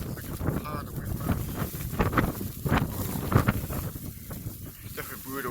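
Blizzard gusts at night in Ames, Iowa, batter the microphone with loud, uneven low rumbling and buffeting, with voices faintly talking underneath.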